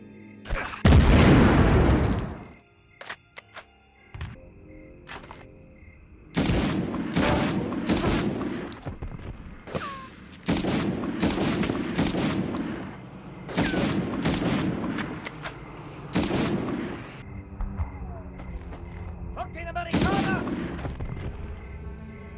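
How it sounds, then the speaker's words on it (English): Loud bursts of gunfire and booming explosions from the PS1 game Medal of Honor in repeated clusters, with short quieter gaps between the volleys. "The guns, the explosions, and the voices all sound great."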